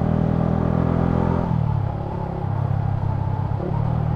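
A Yamaha Sniper 155R motorcycle engine blips and drops through the gears while rev matching on downshifts, a loud close engine tone falling in pitch, then steadying and rising again.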